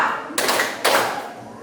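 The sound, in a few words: rhythmic hand clapping in counted ice-breaking game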